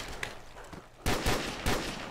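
Gunfire in Call of Duty: World at War Nazi Zombies on a Mario 64 custom map: three loud, sharp shots at roughly even intervals after a quieter stretch of faint game noise.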